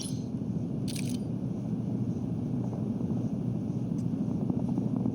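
Helicopter rotor drone from the Warzone battle royale video game, a steady distant whirring wash with faint rhythmic chop that holds for several seconds, moderately quiet with a couple of brief sharp clicks.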